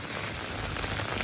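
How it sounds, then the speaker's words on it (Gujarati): Heavy evening rain pours steadily in Bodeli, a dense, unbroken hiss of water striking surfaces, close and constant with no voices. "ફૂલ જોશમાં વરસાદ ચાલુ થઈ ગયો છે સાંજે"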